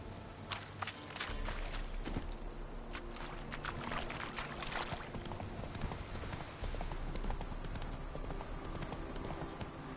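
Rapid clip-clop of a horse's hooves galloping across ground in The Witcher 3, a fast, steady rhythm running the whole time, close and fairly prominent over a busy background.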